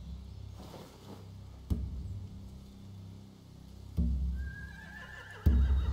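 Horses whinny in The Walking Dead video game, with three loud neighs and snorts that come at intervals over a quiet background.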